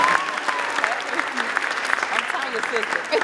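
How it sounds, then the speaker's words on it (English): A crowd at an eighth grade graduation ceremony breaks into steady, moderately loud applause for an incoming speaker, with scattered voices and cheers mixed into the clapping. "Let's give him a wonderful round of applause."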